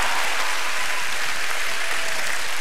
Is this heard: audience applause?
yes